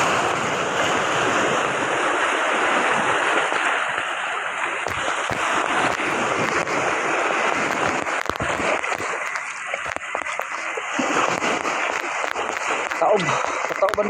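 Sea waves surge in a continuous broadband roar, steady and fairly loud throughout, with wind buffeting the microphone and occasional splashes; faint voices sit beneath the noise.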